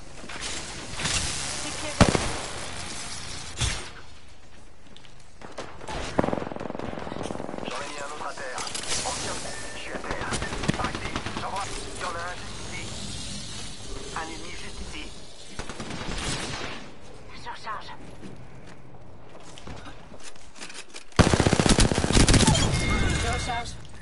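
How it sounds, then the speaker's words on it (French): Rapid bursts of gunfire from the Apex Legends battle royale game crack out repeatedly in clusters, loud and close, with sustained firing near the end and a talking voice mixed in among the shots. "Je suis sous les tirs"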